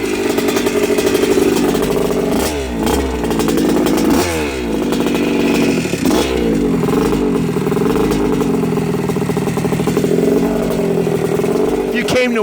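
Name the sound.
1980 Yamaha YZ125 motocross bike engine revving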